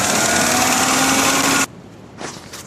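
A 2001 Ford Ranger engine runs loud and steady with a high buzzing drone, then cuts off abruptly, leaving a quiet background with a couple of faint knocks.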